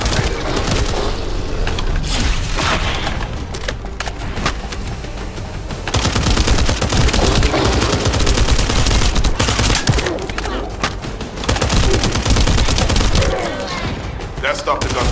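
Gunfire in the video game The First Descendant: sustained bursts of automatic weapon fire with thuds and booms, loud and dense throughout, briefly dipping before resuming, with voices talking underneath.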